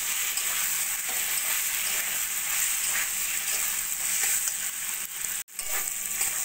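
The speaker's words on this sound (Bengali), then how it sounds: "এবার চালটা ভালো করে পেঁপে আলু মশলার সঙ্গে কষিয়ে নেব" Soaked gobindobhog rice frying with papaya, potato and spices in a banana-stem dish gives a dense, even sizzle throughout, broken by one sharp momentary dropout near the end.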